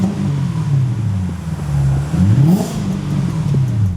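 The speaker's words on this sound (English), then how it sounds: "Let it warm up a bit and give it some revs" A V8 engine swapped into a Lexus IS300 wagon with a manual gearbox idles loudly and close, then is blipped through a few short revs that rise and fall.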